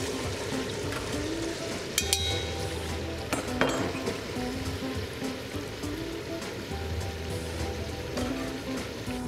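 Chopped onion softening with pork pieces in a hot pan, a steady dense sizzle and crackle throughout with a few sharp clinks of a utensil stirring, close and unaccompanied by talk.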